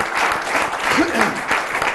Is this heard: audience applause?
yes